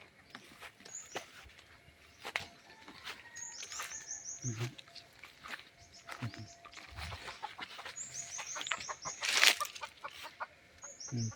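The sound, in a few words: junglefowl chickens clucking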